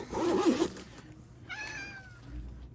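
A cat meows once with a clear, rising-then-falling tone near the middle, heard alone after a brief burst of other household noise, in a room where a fabric zipper pouch is being sewn.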